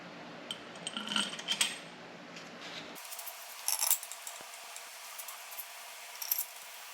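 Metal engine head bolts for a 1964 Ford F100 engine dropped into place, a few light metallic clinks and taps, close and quiet with pauses.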